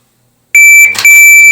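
A shot timer's loud, piercing electronic beeps sound after silence: a sustained tone, a brief break with a noisy burst, then the tone resumes, close and dominant.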